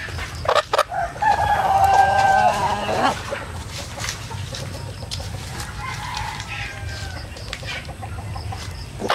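Native chickens cluck and a rooster crows nearby on a farm, with more clucking and farmyard noise continuing afterward; faint voices sit in the background.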